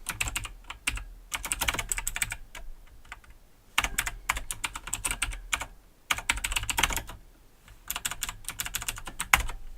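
Fast, steady typing on a computer keyboard, close and clear, in dense bursts broken by short pauses, with no one talking.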